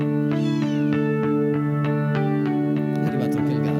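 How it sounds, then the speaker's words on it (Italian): A cat meows repeatedly in a television studio, with loud, drawn-out, tonal cries, one after another, that fill the whole stretch. "È arrivato anche il gatto."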